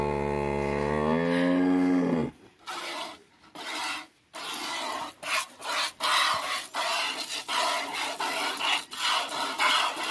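Cattle at a rural milking: a long, loud cow moo opens, then breaks into rough rasping and rubbing sounds in irregular bursts nearby, with no talk.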